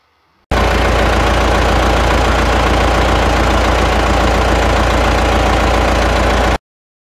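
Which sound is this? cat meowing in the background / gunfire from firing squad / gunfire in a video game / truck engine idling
truck engine idling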